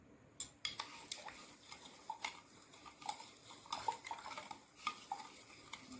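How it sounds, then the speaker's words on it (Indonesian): Salt solution of NaCl and water is stirred in a lab vessel, giving a quiet, irregular series of clinks and scrapes from the stirring rod against the glass over several seconds, with no voices. "Kemudian kita melakukan pengadukan."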